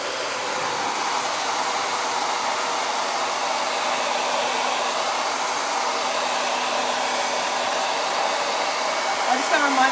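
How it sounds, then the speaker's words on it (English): A hair dryer blows continuously at close range, a steady airy whoosh with no pauses. "I'm gonna hit this with the hairdryer real quick."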